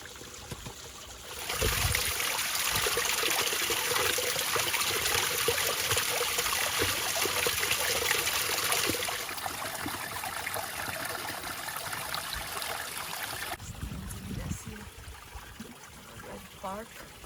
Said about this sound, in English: It's like a real little seasonal creek